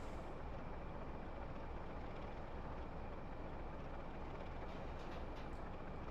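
A train on the Portsmouth Direct Line near the Holybourne tanks, drawing in to stop at a platform, heard as a steady, even rumble and hiss that holds throughout with no talk.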